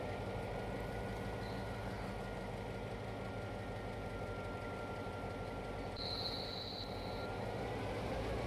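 Simulated train shunting in the Trainz 2022 railway game, heard as a steady low rumble of engine and rolling stock, with a faint brief squeal of wheels near the end and no talking.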